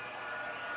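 A heat embossing tool blows hot air steadily onto a mixed media card, a constant close whooshing hiss with no breaks or talk.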